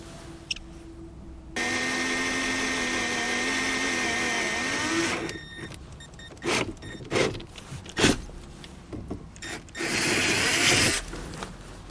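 Power drill boring through a vehicle dash panel in a 2015 Chevrolet Silverado, a steady high whir for several seconds followed by short bursts and a final run, close and loud.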